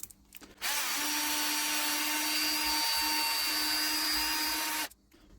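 A power drill spins sandpaper against a vacuum cleaner part, giving a steady, loud whining grind that starts abruptly, holds for about four seconds and then cuts off, with no voices.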